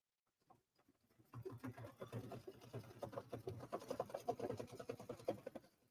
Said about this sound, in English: So now it's going to stitch